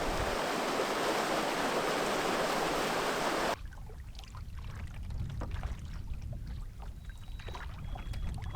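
A canoe paddles across water in the remote Canadian wilderness: a loud rushing wash fills the first few seconds, then gives way to quieter close splashes and drips from the paddle strokes.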